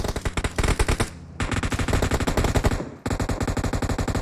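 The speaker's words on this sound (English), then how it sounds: "Nerzed spotted out Whitey and taken him out with the M249." Sustained M249 machine gun fire in PUBG Mobile, loud and close: rapid continuous bursts with a brief pause near one second and another just after three seconds, no voices.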